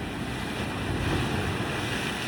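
Ocean waves breaking on rocks, a loud continuous roar of surf with wind rush and no distinct individual crashes, no voices.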